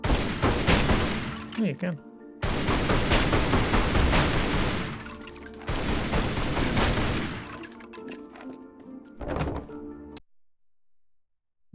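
Video game gunfire in Tomb Raider Anniversary: long dense bursts of loud rapid shots separated by abrupt silences, ending in a final shorter burst, with a brief spoken remark partway through.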